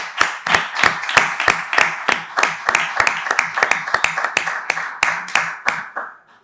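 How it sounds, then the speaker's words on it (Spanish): A small audience at a clean-energy course session on the A Coruña Green Port project claps in a rhythmic, fairly sparse patter of distinct hand claps that fades out at the end. "yo os voy a pedir a los que estamos aquí presentes que le demos un aplauso"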